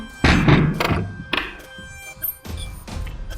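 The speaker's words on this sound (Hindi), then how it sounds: "दरवाजा बंद करो।" A door thuds shut indoors in a home, a few heavy knocks and thunks standing out over a background of voices.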